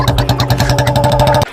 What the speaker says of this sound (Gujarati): ચાવી લાખીને ચાલુ કરી એ બુલેટ નો કાંઠે અવાજ આવી